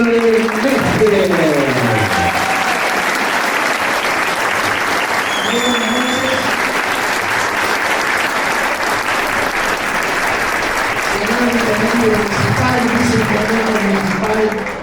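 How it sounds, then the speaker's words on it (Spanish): A crowd at a political event in La Falda applauds loudly and continuously for candidate Ramón Javier Mestre, with voices talking and calling out over the sustained clapping. "lo escuchamos y lo aplaudimos al señor Ramón Javier Mestre"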